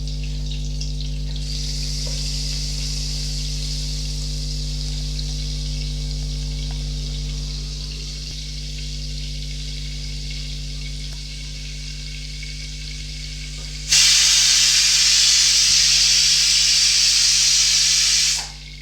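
Butter tempering sizzles in a pan with a steady close hiss and fry, alongside a low constant hum, then a much louder, brighter hiss surges for the last few seconds before cutting off.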